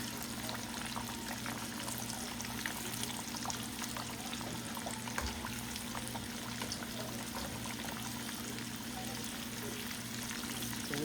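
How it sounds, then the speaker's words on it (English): Battered shrimp frying in a pan of hot oil, a steady, dense sizzle and bubbling that holds at an even level throughout, with no voices. "This shrimp fried pretty quick, but we want it to be crispy."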